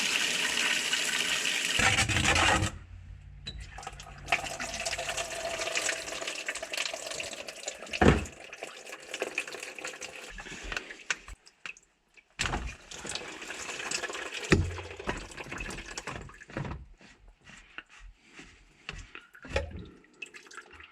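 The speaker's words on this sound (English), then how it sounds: "First, let's drain the water." Water gushes and splashes steadily as it drains from a washing machine's filter into a container, then settles into running and dripping with occasional knocks and clatter, close by and with no voices.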